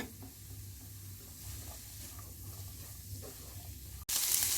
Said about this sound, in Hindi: रेशा किया हुआ चिकन डालेंगे। शिमला मिर्च, ऑलिव तेज आंच पर 1 मिनट पकाएंगे।